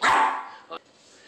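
A Yorkshire Terrier gives a single sharp, close bark, followed by a brief softer yip as the sound quickly fades.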